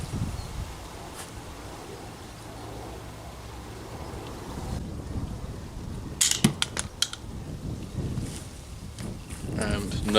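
A pistol crossbow looses a bolt outdoors at a couple of yards' range: a quick cluster of sharp snaps and clicks stands out against steady wind and rustling ambience, followed by a few fainter taps.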